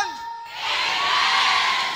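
A church congregation at a worship service shouts together in agreement, a broad loud swell of many voices rising after a brief quiet and holding steady to the end.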